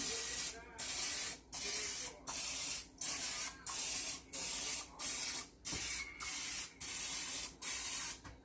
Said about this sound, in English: I'm gonna go ahead and spray my muffin tray again.